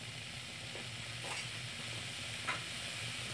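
Onion frying in oil in a pan, with a steady soft sizzle throughout and a couple of faint clicks and brief stirs, close and with no talking.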